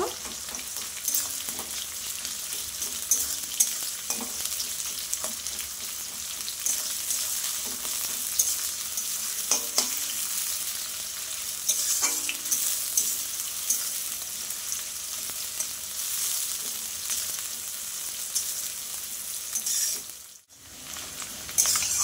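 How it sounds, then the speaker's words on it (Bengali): Onion frying in hot oil in a pan for a mutton dish, a steady close sizzle with occasional stirring clinks, continuous and alone, briefly dropping out near the end. "পেঁয়াজটা অল্প একটু ভেজে নেব।"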